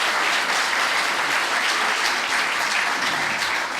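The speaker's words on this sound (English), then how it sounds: "Let's give them a round of applause." Audience at a lieutenant governor candidate forum on culture clapping loudly and steadily, a dense, uniform round of applause from a full room.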